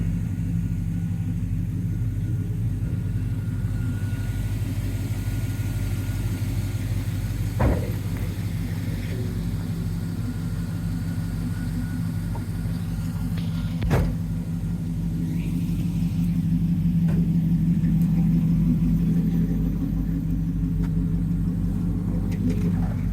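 A 1967 Pontiac GTO restomod with a 6.0L LS engine and six-speed Tremec, heard from inside on a drive: a steady low engine rumble and road drone that swells slightly near the end.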